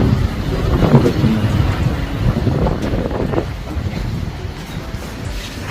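Strong gusts batter the microphone while large waves churn along a coast near Brisbane, a loud, roaring, continuous rush with blustery low thumps that peaks early and eases slightly, no voices.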